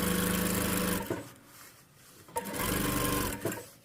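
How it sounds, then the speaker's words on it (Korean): A sewing machine stitches the side seams of a jacket lining, running in a close steady whir with a short pause and slowdown partway before it starts up again. "안감 등과 안감의 옆구리를 지금 박음질 해줄게요."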